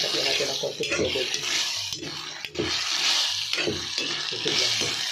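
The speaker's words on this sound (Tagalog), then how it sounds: "Lagyan natin ang konti tubig." Water goes into a pan of sautéed sardines and papaya, giving a steady close sizzle and bubbling with clinks of a utensil stirring, constant and fairly loud throughout.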